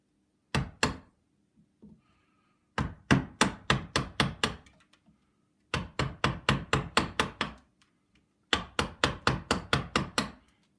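Chisel struck by hand to chip out wood at the side joint of a Flamenco guitar, a close sequence of sharp, dry knocks in four rapid bursts of roughly six to ten blows, separated by short pauses.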